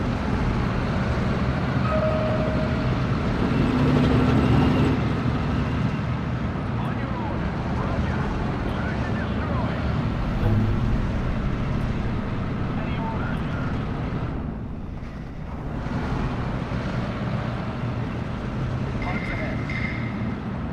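Steady, droning vehicle engine noise from the World War II strategy game Steel Division 2, a continuous monotonous rumble that fills the whole stretch at even loudness with only a brief dip.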